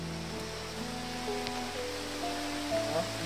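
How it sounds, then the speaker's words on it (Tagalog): Rain falling outdoors in a hillside forest area, a steady broadband hiss of drops on surfaces, continuous and moderately close, with low hum and occasional faint tonal sounds underneath. "Ulan kayo."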